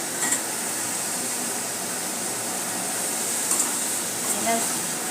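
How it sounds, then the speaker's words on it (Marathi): Drumstick pods tossed into masala roasted in oil, sizzling steadily with scraping stirs and a few soft clinks of a spoon against the pan, close and fairly even throughout; a faint voice sits underneath. "मी शेवग्याची शेंगा घालत आहे"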